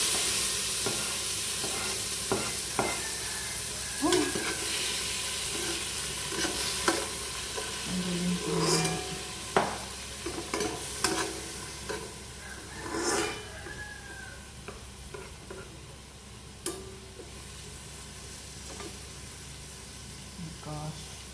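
Garlic fries and sizzles in a pan for munggo, a constant hiss broken by clattering stirs and scrapes of a utensil, with occasional voices in the background.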